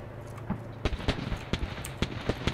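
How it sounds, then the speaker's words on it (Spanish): Scattered gunshots in a tactical shooter video game, a string of sharp cracks at irregular intervals, some near and some more distant, over steady background noise, with no talk. "No sé de dónde venían esos disparos"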